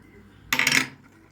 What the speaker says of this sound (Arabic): نحط السكر والملح